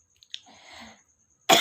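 A single faint, soft cough is heard close by, then a sudden loud burst of noise at the very end.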